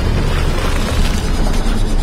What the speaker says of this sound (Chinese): 剧烈的爆炸冲击波将萨姆击晕过去